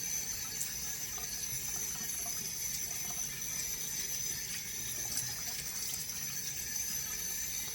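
Cold tap water runs steadily while a stained kitchen towel is rinsed in a sink, a faint, even splashing flow with no break throughout.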